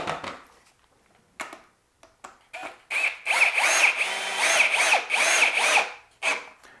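A power drill drives screws into the pre-drilled holes of a wash station shelf. A few short bursts come first, then longer whining runs with rising and falling pitch, fairly close and with no talk.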